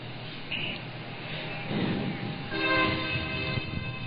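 A train rumbles steadily past near a high-school baseball field, its horn blaring in sustained tones toward the end, heard without talk.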